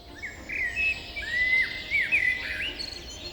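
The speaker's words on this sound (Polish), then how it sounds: "śpiew ptaków" Birds chirp and whistle steadily in a forest against a soft, airy outdoor background, with bright trilling calls repeating at a moderate distance.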